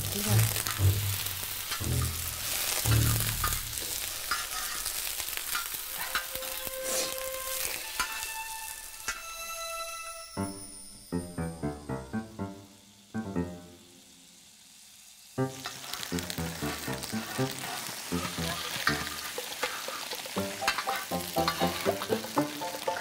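Food fries and sizzles in a hot pan as it is turned and stirred, a steady crackle broken briefly by a quieter pause. Voices talk faintly in the background.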